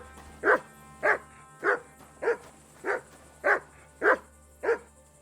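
A dog in Kingdom Come: Deliverance 2 barks eight times at an even pace about every half second, each bark sharp and close, over a low steady background hum.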